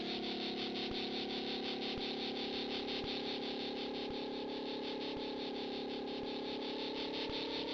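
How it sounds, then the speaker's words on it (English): Crickets chirp steadily in the background of a retro game live stream, a constant high trilling bed under a faint, regular low tick. "I gather that noise is like some kind of snakes or crickets or something in the background."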